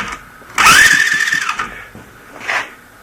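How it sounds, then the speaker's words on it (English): A water-seized 70cc Chinese ATV engine cranking on its starter: a loud whirring crank of about a second, then a shorter second burst, close up. "I got this hooked to the starter."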